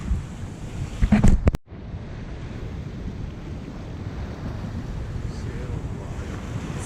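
A sailboat at sea off St. Thomas, with steady wind buffeting and the wash of waves, a few louder knocks and rustles near the start, then a constant rushing hiss.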